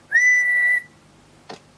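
A steady whistle into a Cobra 29 LX CB radio microphone, one clear high sustained tone lasting under a second, followed by silence and a brief soft click.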